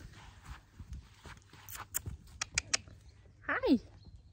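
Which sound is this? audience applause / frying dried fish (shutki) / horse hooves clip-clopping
horse hooves clip-clopping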